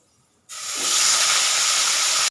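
Potatoes, eggplant and fenugreek seeds hit hot oil in a pan and erupt into a loud, steady sizzle that starts abruptly after a short quiet pause and holds evenly until it cuts off near the end.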